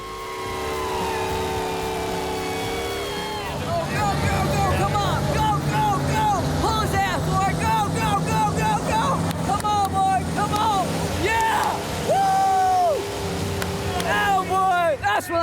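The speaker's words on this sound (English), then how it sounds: "It's like arm wrestling for monster trucks, all while making as much noise and smoke as possible." Monster truck engines drone and rev loudly beneath a busy crowd, with shouting and cheering voices over the roaring motors.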